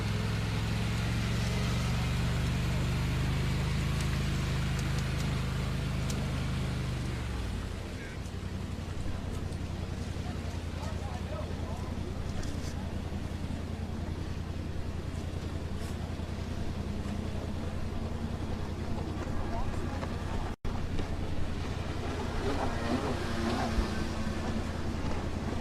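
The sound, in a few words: sport boat jet skis racing on water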